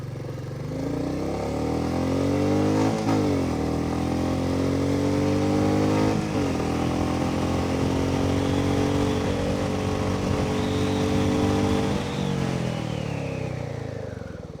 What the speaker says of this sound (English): So let's do the brake test from 80 kilometers an hour.